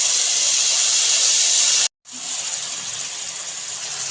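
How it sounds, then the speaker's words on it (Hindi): Milk is poured into hot roasted semolina for halwa, giving a loud, steady steam hiss that cuts out for an instant and then resumes a little softer. "अब डालेंगे इसके अंदर हम दूध।"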